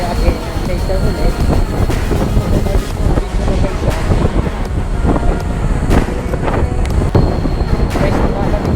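Strong wind roars steadily across the microphone at a river beach, a loud continuous rush with low rumble throughout and no clear voices.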